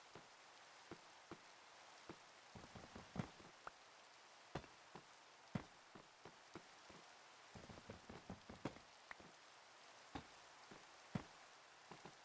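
Steady rain falling in the Minecraft video game, a soft continuous hiss broken by many sharp raindrop-like ticks spread across the whole stretch, fairly quiet with no voices.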